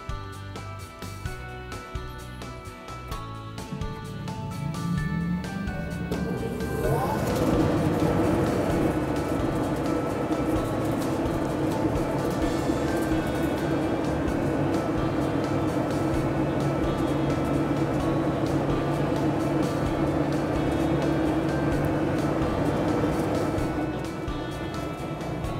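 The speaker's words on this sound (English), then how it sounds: "One is a standard belt drive configuration, and the other features Dayton's variable speed EC motor." A belt drive fan and a Dayton EC variable speed direct drive motor fan running side by side, a steady whirring hum that rises within the first few seconds and then holds, with a slight tonal drone.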